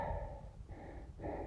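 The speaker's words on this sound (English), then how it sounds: "Heavy breathing." Heavy, labored breathing of a hiker climbing switchbacks uphill on the Timberline Trail, two or three close, breathy exhales with brief pauses, ending in a sharp rustle or bump.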